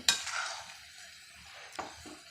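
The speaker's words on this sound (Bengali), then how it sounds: "বেশ কিছুক্ষণ টাইম নিয়ে নেড়ে চেড়ে ফিটোটা ভেজে নিতে হবে" Flattened rice (chira) is stirred and fried in a pan: a sharp scrape of the utensil at the start, a soft sizzle, then a quieter stretch and two more brief scraping strokes against the pan.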